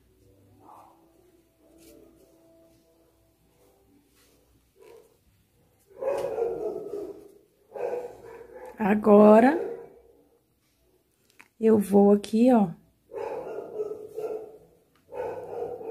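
A neighbour's dog barks in several loud bursts, each a cluster of sharp yaps, with someone talking quietly between and over them during a crochet session.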